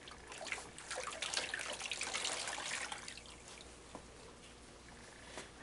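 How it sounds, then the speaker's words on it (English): Water rinsing over skin and towel during a bed bath, with a faint trickling and dribbling splash that is strongest in the first few seconds, then thins to occasional drips, quiet and close. "Now we're ready to rinse."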